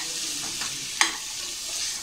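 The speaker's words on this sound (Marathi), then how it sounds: "चणेही थोडं 2-3 मिनटं आपण परतून घेऊया, म्हणजे जेणेकरून हा सगळा मसाला चण्याला व्यवस्थित लागेल" Chickpeas sauté in masala in a pan, a steady sizzle with a spoon stirring through it and one brief scrape partway through.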